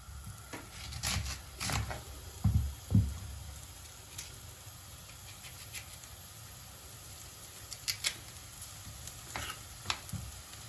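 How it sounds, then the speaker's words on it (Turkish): Onions sautéing in a pan for a fennel dish give a soft, low sizzle, with scattered scrapes and taps of stirring rising above it. "Soğanlar kavruldu."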